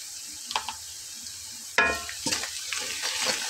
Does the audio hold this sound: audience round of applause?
no